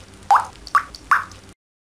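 Three clear drops fall one after another from a dripping faucet, evenly spaced and close, each a short bright plop, then the sound stops.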